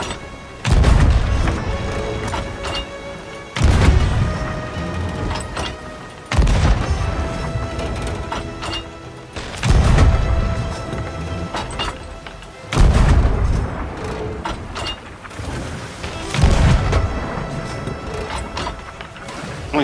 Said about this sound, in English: Only firing one cannon?